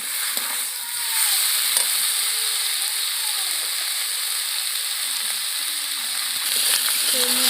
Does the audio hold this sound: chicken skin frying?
yes